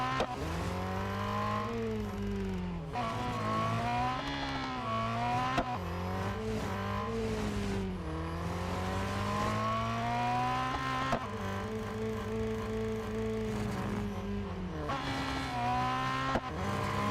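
A race car in Real Racing 3 runs a speed record on the short circuit at the Porsche test track. Its engine note climbs steadily through the gears, dropping sharply at each shift. The tone is loud and continuous, with brief tire squeal and no voices.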